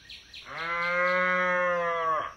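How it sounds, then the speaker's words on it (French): An old cow in a cartoon fairy tale lets out one long, loud, steady moo lasting nearly two seconds, close up and with no voices over it. "Il ne possédait plus qu'une vieille vache,"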